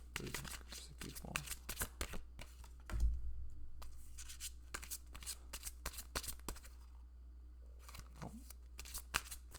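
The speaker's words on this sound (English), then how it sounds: "I'm going to pull 3 different cards for 3 different groups of people." Tarot cards are shuffled and pulled in a string of close, crisp riffling and slapping bursts, with a brief spoken exclamation partway through.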